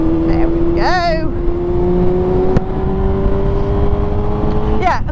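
A motorcycle engine opens up and accelerates on a road, its rising drone steady and loud close by, with a couple of quick rev swells breaking through the sustained roar.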